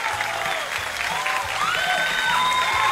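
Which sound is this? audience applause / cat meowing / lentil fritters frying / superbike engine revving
audience applause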